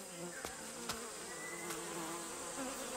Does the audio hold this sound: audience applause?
no